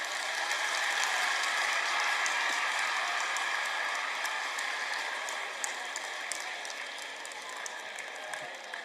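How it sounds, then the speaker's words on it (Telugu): A school audience claps together in a dense, continuous wash of applause that stays steady and close before slowly fading slightly toward the end. "చప్పట్లు కొట్టండి"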